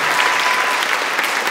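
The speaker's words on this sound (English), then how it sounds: "Give them one more round of applause." High school Christmas concert audience in 2021 bursts into loud, dense applause after a choir performance, a continuous close wash of many hands clapping.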